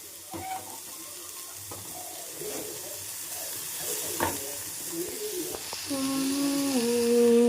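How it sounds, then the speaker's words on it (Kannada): Onions for an egg sandwich sizzle in a pan that already holds fried carrot and capsicum, a steady close hiss under scattered stirring clinks. A rising hum enters toward the end. "ಈರುಳ್ಳಿನೂ ಅಷ್ಟೇ ಒಂದು 2 ಮಿನಿಟ್ಸ್ ಫ್ರೈ ಮಾಡ್ಕೋಬೇಕಷ್ಟೆ"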